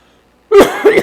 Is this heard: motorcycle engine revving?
no